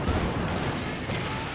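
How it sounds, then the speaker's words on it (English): Land Mattress rocket barrage in Company of Heroes 2: a continuous dense wall of rumbling explosions and crackling rocket impacts, loud and unbroken throughout the short stretch. "You now have a land mattress barrage up here trying to hit that Superspruce."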